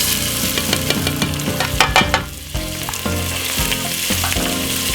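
Olive oil and white onion frying in a soup pot, a loud continuous sizzle with clattering stirring strokes and a brief dip in the hiss midway.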